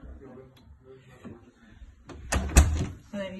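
The back door of a house opens or closes with a soft thump and latch clatter near the end, close by, after quiet handling sounds and low talk.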